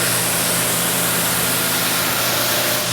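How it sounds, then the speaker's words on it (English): A pressure water spray rinses soap off a Subaru WRX during detailing, a steady, loud, broadband hiss that runs unbroken for a few seconds with no voices. "Rinse it even a little better than I did when I was dealing with the soap."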